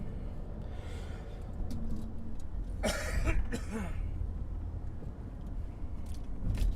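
A couple of rough coughs or throat-clearing bursts from a police officer rise out of steady engine-like background rumble, close and moderately loud.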